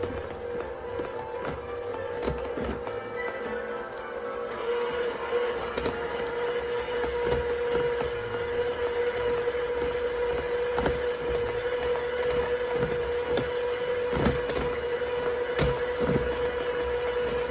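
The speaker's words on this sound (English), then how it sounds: "Here I'm creaming my butter." Electric mixer creaming butter for old-fashioned tea cakes, a steady motor whine running throughout with faint rhythmic knocks against the bowl.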